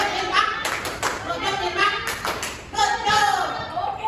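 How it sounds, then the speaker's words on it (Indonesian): A grade 6 primary school class applauds, a dense patter of many hands clapping steadily for a few seconds, with children's voices mixed in. "Yuk kasih tepuk jawab"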